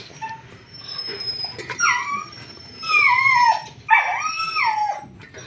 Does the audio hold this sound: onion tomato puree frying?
no